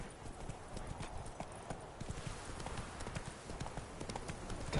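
Hooves of a horse cantering in the Witcher 3 video game form a continuous thudding clip-clop rhythm, moderately loud, with some talking mixed in.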